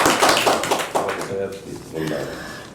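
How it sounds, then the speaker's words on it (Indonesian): Applause at an Indonesian podcast event with East Java provincial council members, a short burst of clapping from a small group that fades out within a couple of seconds. "Tepuk tangan untuk kita semua"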